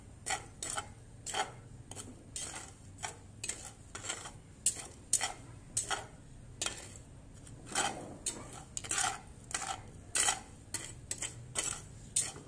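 Saltpetre and sulfur stirred together in a pot over a stove fire: quiet, regular scraping strokes repeat about twice a second against a low background hum.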